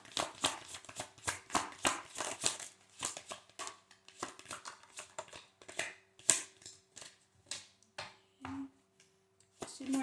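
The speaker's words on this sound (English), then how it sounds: "One more shuffle for Aries." Tarot cards being shuffled by hand, a run of quick crisp riffling and snapping bursts close by, then sparser soft taps and slides of the deck toward the end.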